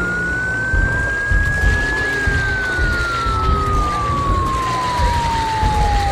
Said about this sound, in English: I potentially shouldn't have turned the siren on.